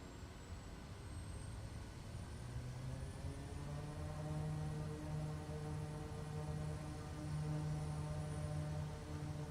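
A simulated aircraft engine in MSFS 2020 holds a steady, loud drone at full takeoff throttle, its tonal hum rising slightly in pitch throughout with no voices.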